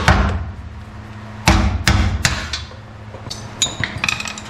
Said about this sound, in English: Probably just knock it out with a hammer and a screwdriver.